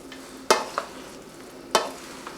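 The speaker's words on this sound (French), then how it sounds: "Je vais brasser encore. Je mélange bien les ingrédients." A spoon stirs quinoa salad ingredients in a bowl, giving two distinct scraping strokes with a soft rustle between them, close and moderately loud, with no talking.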